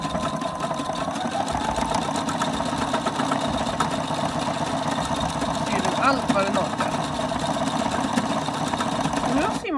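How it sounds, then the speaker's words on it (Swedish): A Janome Opal 670 domestic sewing machine stitches a decorative candy-shaped pattern, its motor whirring with a fast, steady mechanical chatter throughout, close and loud, while a person talks briefly over it. "Nu har symaskinen sytt en godis."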